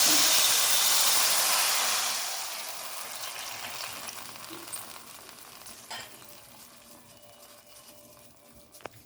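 Tamarind juice is poured into a hot pan for Andhra fish curry: a loud burst of hissing sizzle that quickly subsides into a quieter bubbling simmer, with a couple of faint utensil taps near the end.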